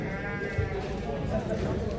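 Sheep bleat at a livestock market in Bishkek, a brief nearby call rising over market bustle and background voices.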